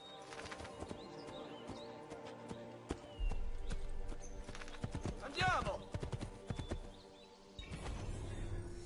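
Galloping horse hooves while riding in Assassin's Creed II, a rhythmic clip-clop with a brief neigh and scattered bird calls, while someone talks over it.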